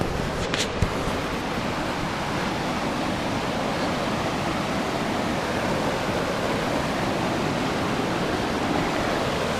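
Quarry Lake Brook Fall in Nova Scotia, swollen after heavy rain, gives a steady, dense roar of rushing water that stays loud and unbroken throughout.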